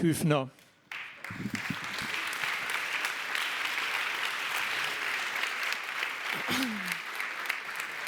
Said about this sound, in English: Thank you very much for that applause